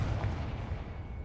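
Confringo fire blast spell cast in Hogwarts Legacy, a short heavy low booming burst with a rumbling tail, loud and close, with no speech over it.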